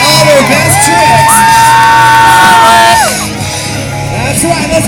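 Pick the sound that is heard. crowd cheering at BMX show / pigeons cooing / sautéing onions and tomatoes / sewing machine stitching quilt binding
crowd cheering at BMX show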